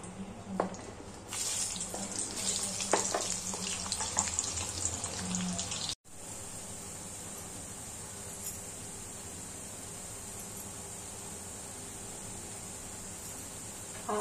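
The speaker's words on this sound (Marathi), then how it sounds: "वांगी झाली ना की आपण लगेचच कांदा फ्राय करून घेऊया।" Onions fry in hot oil in a pan after brinjals for bharit, making a faint, steady hiss with a few light clatters early on and a short break midway before the even hissing resumes.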